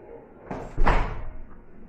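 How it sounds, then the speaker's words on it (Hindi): A door is shut from inside a home: a single solid slam with a thud at the moment of closing, fairly loud and close, followed by a short rattle as it settles. "दरवाजा भी बंद किया अंदर से।"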